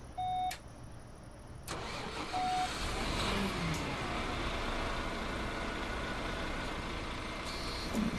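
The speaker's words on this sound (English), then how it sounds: "So let's start the bus up." A bus engine in the Bus Simulator video game cranks and starts, then settles into a steady mid-pitched idle rumble, with a few electronic beeps early on and no talking.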